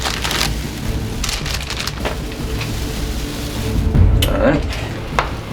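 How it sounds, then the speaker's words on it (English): Butter melting and sizzling in a pan for Rice Krispie treats: a steady crackling hiss that carries throughout, with a voice speaking briefly over it. "make sure the butter doesn't burn."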